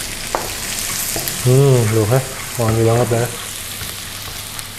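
Garlic sizzles and crackles steadily in hot oil in a wok while sapo tahu broth is being made, with a person speaking briefly over the frying.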